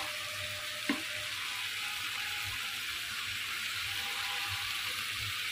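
Vegetables, including eggplant, sizzle steadily in a pan over freshly fried spices, a continuous hissing fry with a single sharp clink near the start and no voices.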